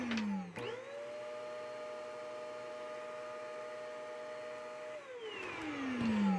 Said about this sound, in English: Let's plug it in and turn it on and see what it does.